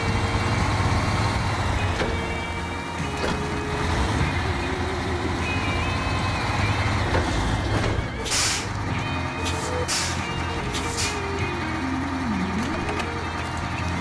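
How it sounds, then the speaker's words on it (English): Truck unloading in SnowRunner, a continuous engine rumble with several sharp hissing air-brake bursts toward the end, reversing beeps and someone talking over it. "let's unload our truck here"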